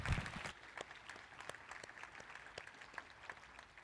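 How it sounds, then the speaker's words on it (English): Applause at a scientific conference plenary session on cortical oscillations and consciousness, a fairly faint scatter of clapping from a modest audience that starts a little louder and thins slightly over a few seconds. "Let's give PULIN a great round of applause"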